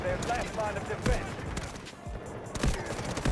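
AS VAL rifle fire in Delta Force: several quick, punchy bursts of suppressed shots spaced through the moment, with a voice talking between and over them.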